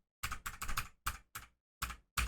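Computer keyboard keys typed in quick, uneven bursts of sharp clicks, several rapid strokes, then short pauses and a few more taps, faint and close with silence between strokes.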